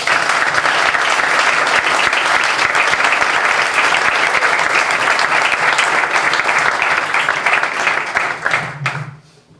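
Sustained applause from a live audience at a lecture on liberalism, loud and steady for about nine seconds before thinning out and fading at the end.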